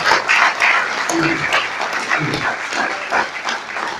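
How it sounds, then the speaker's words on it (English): Lecture-hall audience giving a round of applause at a distinguished lecture event, continuous broadband clapping with a few voices and a dog-like bark or shout faintly mixed in. "they're all going to give you a round of applause while Tamika is there"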